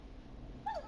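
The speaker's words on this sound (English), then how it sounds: "Is that a neighbor's dog?" A neighbor's dog in the video game Killer Frequency gives a single short whining yelp at night, brief and moderately close over a low background hum.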